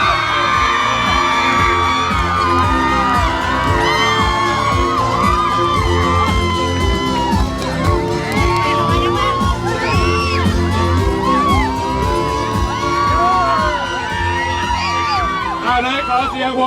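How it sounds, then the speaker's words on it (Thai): At a "Lao Rueang Beer" event in Bang Khun Thian, a large crowd welcoming Pita Limjaroenrat keeps up loud, continuous cheering, whooping and shouting, with music playing underneath and no pauses. "ขอเสียงปรบมือต้อนรับดังๆให้กับ พิมพิธา เลนเจริญ"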